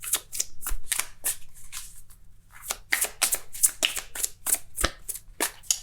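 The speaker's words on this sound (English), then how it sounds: "So I'm gonna shuffle one more time." Tarot cards are shuffled by hand in a quick run of crisp, close riffling flicks and taps, with a short pause partway through and no voices.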